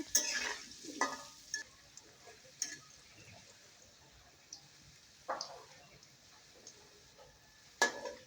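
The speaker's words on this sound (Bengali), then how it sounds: "কড়াইয়ে তেল দিয়ে আলুগুলো ভেজে নিচ্ছি লবণ আর একটু হলুদ দিয়ে আলুগুলো বেজে নিচ্ছি" Potatoes fry in oil in a kadai with salt and turmeric: a quiet, steady sizzle broken by a few sharp scrapes and taps of a stirring spoon against the pan.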